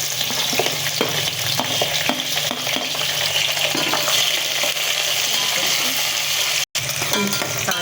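Onions and green chilies fry in hot oil in a pan, a loud, steady close sizzle with occasional stirring scrapes and a brief dropout near the end.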